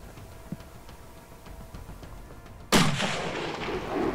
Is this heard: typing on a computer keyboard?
no